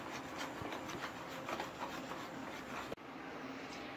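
Eggs being stirred into melted chocolate for brownie batter, giving a steady, close, wet scraping and rubbing that runs continuously, with a brief break near the end.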